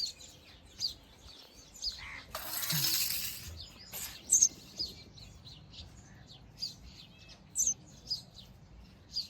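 Sparrows chirp in brief, high bursts over a quiet outdoor background, with a short rattling clatter early on.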